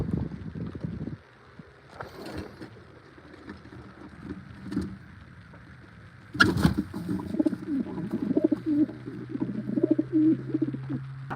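Racing pigeons coo softly and repeatedly in a loft, low throaty calls rising and falling, with a brief clatter and wing flutter partway through.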